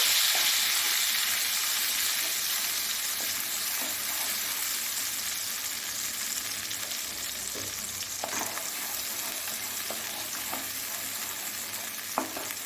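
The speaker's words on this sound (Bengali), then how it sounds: "ভালো মতন এটাকে একটু নেড়ে চেড়ে একটু কষিয়ে নিব" Tomato and ginger stirred and fried in a pan for a vegetarian potato and pea curry, a loud continuous sizzle with occasional scraping clicks of the spoon, no voices.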